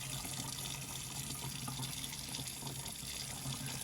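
Water runs from a tap onto a wet paper towel wrapped around a beer, a faint, steady splashing flow throughout.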